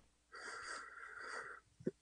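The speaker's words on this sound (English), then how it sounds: "You need to actually speak instead of just breathing heavily into the microphone." A caller on a live talk radio show breathes heavily into the microphone, a close, breathy wheeze lasting over a second, then a short sniff-like snort at the end.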